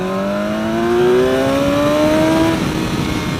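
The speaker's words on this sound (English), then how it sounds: "Let's do a second gear pull." A 2016 BMW S1000XR motorcycle pulls hard in second gear from about 25 mph, its engine note climbing steadily and loudly for a couple of seconds before backing off amid rushing wind.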